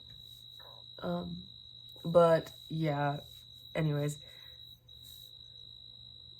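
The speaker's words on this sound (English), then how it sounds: "Sorry if the crickets are loud" Crickets chirp outdoors in one steady, continuous high-pitched trill that runs through the whole stretch. Someone talks over it.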